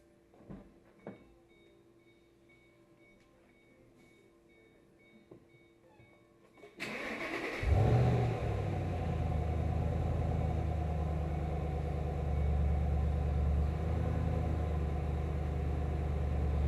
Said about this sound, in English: now I'm going to start up the car